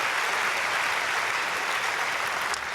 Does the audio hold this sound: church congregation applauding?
yes